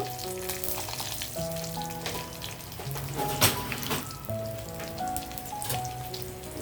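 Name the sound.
coconut chutney ingredients with garlic frying in pan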